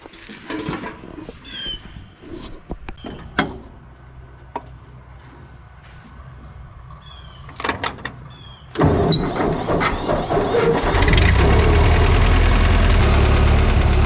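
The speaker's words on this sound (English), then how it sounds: "this thing is making a noise in the transmission" A 1952 Ford 8N tractor runs with a transmission noise, a steady mechanical engine drone with scattered knocks and clicks that swells louder and fuller in the last few seconds, heard alone without talk.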